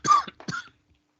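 A short burst of coughing, two or three quick hacking coughs close by, followed by silence.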